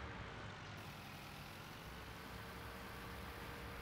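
A tractor engine in Farming Simulator 2019 runs steadily while a tank fills, a continuous broadband drone with no distinct rev peaks, sitting alone without talk.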